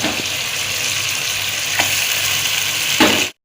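Ginger garlic chili paste with yogurt frying in a pot for mutton nihari, a loud steady close sizzle with a couple of stirring scrapes, no talking.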